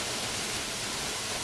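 A waterfall in the woods gives a steady, dense rushing roar that stays constant and fairly loud throughout, with no voices.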